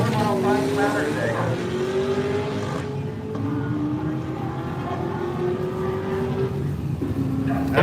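A 1980 Ford Fairmont drag car makes a quarter-mile run at Woodburn Dragstrip, its loud engine climbing through gears with rising whine and shifts, under a noisy crowd and announcer atmosphere.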